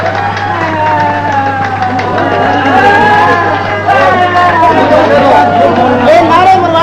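A crowd at a religious debate gathering shouting slogans in unison, loud and sustained voices layered with chatter and babble, continuous with no pauses.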